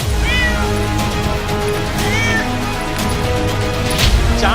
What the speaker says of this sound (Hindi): बिल्ली भी घर में घूम रही है